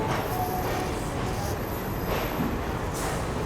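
Hussain Sagar superfast express pulling out of Pune Junction, a steady rumble of rolling rail cars heard from on board, continuous and moderately loud throughout with no talking.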